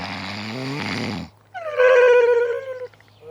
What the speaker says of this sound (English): The snoring is stopping me sleeping.